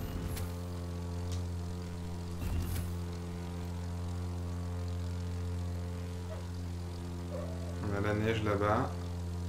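A propeller airplane engine in the racing game The Crew 2 drones steadily throughout, a constant tonal hum with someone speaking French over it and a brief burst of higher engine whine near the end.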